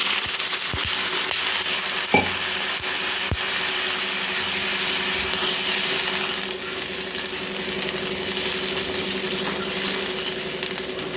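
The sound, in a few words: water added to frying potato and egg masala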